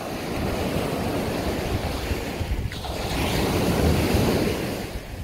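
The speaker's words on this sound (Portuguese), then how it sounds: "esse barulho das ondas aí é sinfonia" Ocean waves wash onto a beach at Praia de Mamucabinhas, Pernambuco, Brazil, at neap tide, in a continuous rushing roar, with wind buffeting the microphone and one surge swelling louder near the end.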